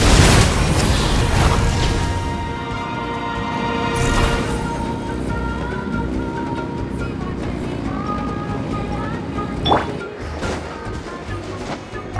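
A Pyroclastic Surge attack in Genshin Impact crashes in with loud booming impacts at the start, then an ongoing rumble with ringing tonal effects, water-like surges and a later bright burst.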